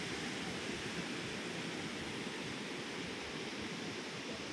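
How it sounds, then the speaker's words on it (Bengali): Water rushing out of the Teesta barrage: a steady, loud, unbroken roar of torrent and spray that fills the clip from start to finish, with no voices. "তিস্তা ব্যারেজ, আচ্ছা এখান থেকেই জল ছাড়া হয়"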